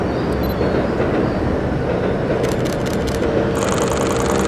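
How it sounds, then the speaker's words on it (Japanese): A JR Osaka Loop Line train passes close by at a station lined with cherry trees in full bloom, a loud steady rumble of wheels and motors with squealing, clattering rail noise building toward the end. "電車だ"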